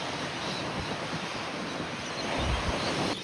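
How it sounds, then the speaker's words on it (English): Huge ocean waves breaking at a Sydney beach on a cold day, a continuous distant surf roar with a heavier surge near the end, no talking. "But look at those waves."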